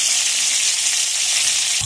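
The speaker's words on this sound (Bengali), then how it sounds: "আবার কড়াইয়ের মধ্যে কারি পাতা দিয়ে দিচ্ছি" Curry leaves hit hot oil in a wok and sizzle loudly, a steady close crackling hiss for a couple of seconds with no talk.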